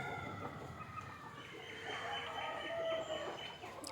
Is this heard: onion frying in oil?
no